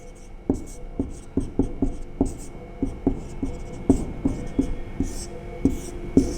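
A pen writes on a paper map in a close run of short scratchy strokes and light taps, a dozen or so in a fairly even rhythm, with no talk over them.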